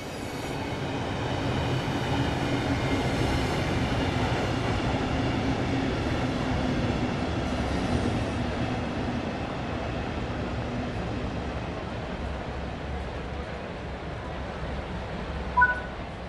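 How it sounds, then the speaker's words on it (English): Class 395 Javelin high-speed train built by Hitachi, in the Train Sim World 4 game on the Southeastern High Speed route, arriving with a steady loud rumble of wheels and traction hum throughout, and a brief faint chime near the end. "Your train has arrived."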